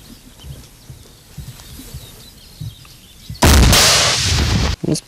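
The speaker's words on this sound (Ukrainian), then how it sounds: "армійці беруться за РПГ, в які заряджають міни калібру 82" An RPG launcher loaded with an 82 mm mortar round fires at an enemy bunker near Horlivka: one loud blast with a roaring rush lasting over a second, after quiet outdoor thumps, birds and movement.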